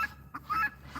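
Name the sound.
goose honking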